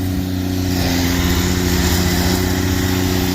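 An old McCormick tractor engine runs at a steady, loud drone with strong low harmonic hum and a constant mechanical rattle, close by and with no talking.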